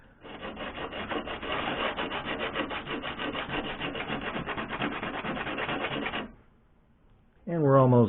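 Steady rhythmic scraping of 60 or 80 grit sandpaper rubbing on metal from a 1987 Jeep J-20 TF727 transmission linkage, a continuous back-and-forth for about six seconds, then a pause and a brief harsher stroke.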